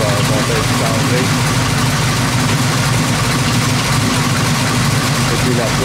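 An AMC 360 V8 engine rated around 450 hp idles steadily and loudly, its low rumble continuous and unchanging throughout with no voices over it.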